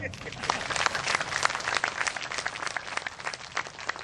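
Audience applause at a tehsil building foundation-stone ceremony in Murar, a steady dense clatter of clapping from a crowd held at a constant level for the whole stretch.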